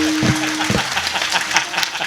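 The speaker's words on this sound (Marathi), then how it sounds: "ज्यांनी ज्यांनी भजन केले त्यांनी शेजारच्यासाठी एकदा जोरदार टाळ्या वाजवा" Audience at a kirtan clapping loudly, a dense burst of applause close by that carries on steadily, with a voice heard briefly at the start.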